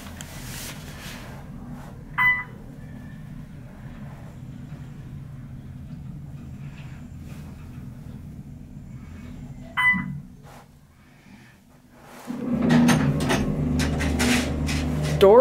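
A modernized Otis traction elevator at a bank runs with a steady low mechanical hum, broken by a few brief clunks and a chime-like tone. Near the end comes a louder surge of door and motor noise, with no talking.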